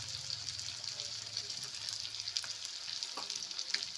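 Chicken curry with potatoes, coriander leaves and salt being stir-fried in a pan, a steady close sizzle and bubbling with occasional scraping stirs throughout, no talking.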